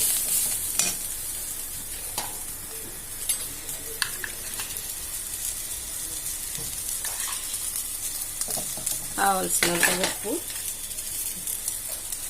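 Drumstick flowers fry in a pan with a continuous close sizzle, while a spatula scrapes and stirs at irregular moments, growing busier toward the end.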